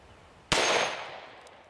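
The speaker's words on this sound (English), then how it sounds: "44 Magnum, one of the biggest handgun cartridges." A .44 Magnum handgun round strikes a titanium sheet: one sudden, loud crack with a bright metallic ring that fades over about a second, alone in quiet surroundings.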